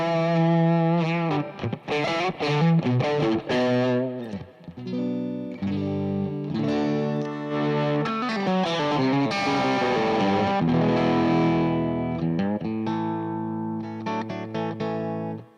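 Distorted electric guitar heard through a simulated single 1x12 speaker cabinet, playing sustained chords and melodic lines with a chorus-like shimmer, loud and continuous for about fifteen seconds with no talking.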